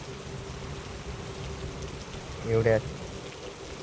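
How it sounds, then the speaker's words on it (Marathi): Heavy rain pours steadily during a hailstorm in Maharashtra, a soft, constant wash of noise at moderate distance, with a single voice cutting in briefly near the middle. "खूप खतरनाक पाऊस पडतोय, बघू शकताय."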